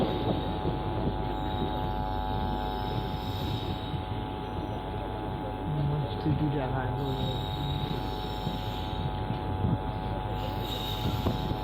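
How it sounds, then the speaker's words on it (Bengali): A train running toward Azimganj City rumbles steadily with a droning engine hum and occasional rail noise, heard from on board at constant moderate loudness. "এবার আমাদের ট্রেন পার করবে আজিমগঞ্জ সিটি"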